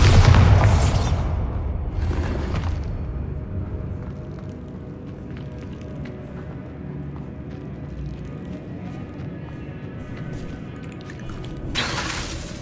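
A Bombarda blasting spell from the Hogwarts Legacy video game bursts loudly near the start, followed by a rumbling low tail and a second bright blast near the end.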